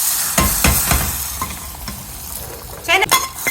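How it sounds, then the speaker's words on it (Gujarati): Hot tempering of hing, dried chillies and curry leaves poured into boiling sambar, giving a few sharp sizzling bursts and stirring clatter near the start, with louder spitting surges toward the end. "આ વઘારને આપણે લઈ લેશું ઉકળતા આપણા સંભારમાં."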